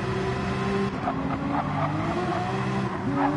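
A Porsche Cup race car in a sim racing video game drones loudly with a steady engine tone that shifts pitch as it accelerates and changes gear, along with brief tire scrubbing.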